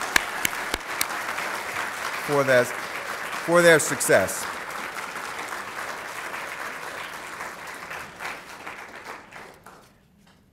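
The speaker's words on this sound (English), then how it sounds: "a round of applause is due to them" Audience applause for team leaders at an opening remarks session, sustained clapping that swells and fades over about ten seconds, with a speaker's voice cutting through briefly early on.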